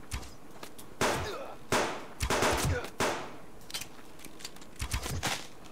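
Gunfire in the survival video game Subsistence, a handful of sharp separate shots spaced about a second apart, with a quieter rapid burst near the end, over faint background.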